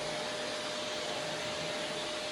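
A vacuum cleaner sucks up dust from cabinets during a makeover, giving a steady, even whooshing drone.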